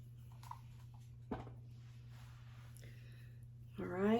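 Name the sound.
spraying plain water on a wig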